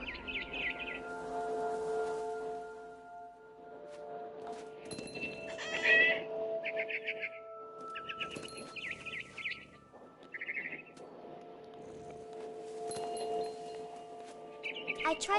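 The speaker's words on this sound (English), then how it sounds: "It was a barn swallow going back to her nest." Barn swallow chirping in the video game What Remains of Edith Finch, repeated bright tweets in short bursts over a hum of game ambience.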